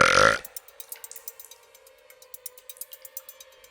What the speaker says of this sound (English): as she let out a big belch